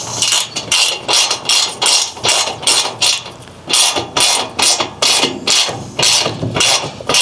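A bolt is tightened with a 1/2-inch socket while assembling a Nexgrill 4-burner gas grill, producing rapid repeated ratcheting clicks in short close bursts with brief pauses between them.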